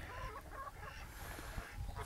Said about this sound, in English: As you can see, that little rooster right there.